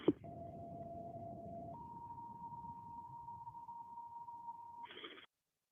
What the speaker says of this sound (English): That background you hear slight, that's them toning out the fire department in the background